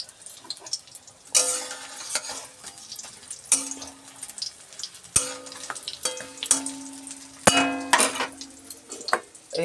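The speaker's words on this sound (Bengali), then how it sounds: "এখনো কুমড়োর বড়া ভাজা চলছে" Pumpkin fritters deep frying in oil with a steady sizzle, broken by repeated clangs and scrapes of a utensil against the pan, fairly close and loud.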